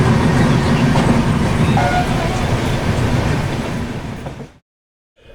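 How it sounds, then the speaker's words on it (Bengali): A passenger train travelling overnight to Puri, a steady loud rumbling and rattling of the carriage heard from inside, continuous until it cuts off abruptly near the end. "নির্দিষ্ট সময়ই ট্রেন রওনা দিল পুরীর উদ্দেশ্যে"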